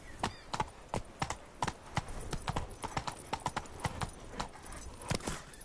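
Rapid hoofbeats of the horse Roach galloping in The Witcher 3, a fast, even clip-clop rhythm of sharp hoof strikes, close and steady, with no talking.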